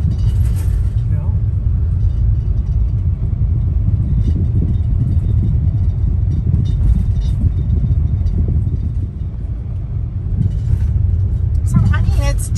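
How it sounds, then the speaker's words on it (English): A car rolls along the bumpy, washboard dirt surface of Loop Road in Big Cypress, giving a steady, loud rumble of tyres and engine that runs unbroken throughout, with people talking inside the car. "it's generally passable for any vehicle, but it is washboardy and bumpy, so, you know, use caution."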